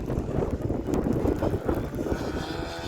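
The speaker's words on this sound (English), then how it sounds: "It's a bit windy out here." Wind buffets the microphone outdoors in snow with a steady low rumble and roar, no voices.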